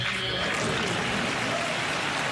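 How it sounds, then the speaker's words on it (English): Crowd in a chamber cheering and applauding during President Trump's address to Congress, a steady wash of clapping and voices with no breaks, moderately loud and spread wide. "The crowd erupted in cheers as President Trump boasted his recent executive order"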